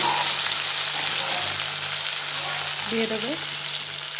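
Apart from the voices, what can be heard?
chopped tomato frying in oil with onions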